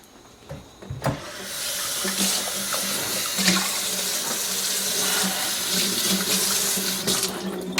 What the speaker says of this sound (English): from here we can go ahead and rinse this on out